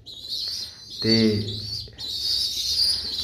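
Pigeons and young squabs in a pigeon club loft in Faridkot keep up a steady high chirping and soft calling, close by, while someone briefly speaks over them.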